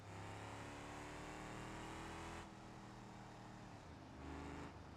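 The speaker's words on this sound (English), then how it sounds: "This is a nice car to drive." A V8-swapped Gavril Bluebuck in BeamNG.Drive drones steadily at high revs, its engine note shifting partway through as it eases off and then picks back up, loud and close with no talk.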